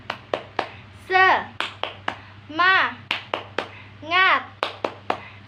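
Children perform a rhythmic tepuk semangat chant in a classroom, sharp claps in quick patterned groups alternating with short sung or shouted vocal bursts, close and clear.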